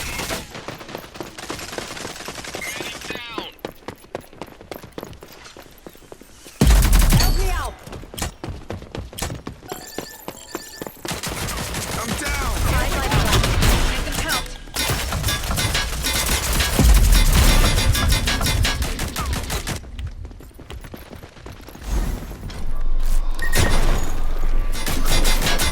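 Rapid gunfire from Sigrid in rogue-style shooter gameplay, loud repeated bursts and volleys with short pauses between them.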